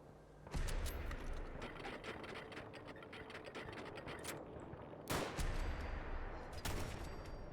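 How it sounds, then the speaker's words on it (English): Rapid bursts of gunfire in Fallout 4, a dense volley of shots with mechanical clatter, pausing briefly and then resuming in sharp clustered bursts, with no talk over it. "shot him right through a building"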